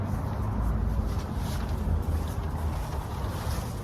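Wind blows past a Zpacks Duplex tent outdoors, making a steady, low, buffeting rush of air with no talking.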